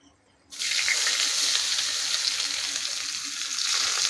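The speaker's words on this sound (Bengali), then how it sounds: "ওরে এবার দাও চাউমিনটা।" Chow mein noodles dropped into a hot pan burst into a loud, sudden sizzle after a short quiet moment, then keep hissing steadily and close up.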